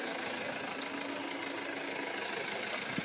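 A Pramac diesel generator with automatic start, housed in a sound-dampening enclosure, runs steadily nearby with a constant broadband drone and vibration that never changes pace.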